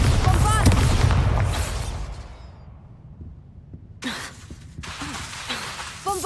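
Bombarda explosion spell in a Harry Potter video game: a heavy booming blast at the start that decays into quiet, followed by voices speaking.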